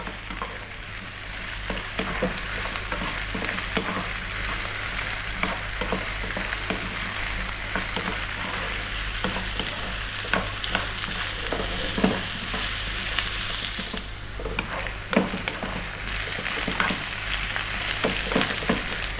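Onion and potatoes fry in a pan, giving a constant loud sizzle broken by frequent spatula scrapes as they are stirred often, with no voices.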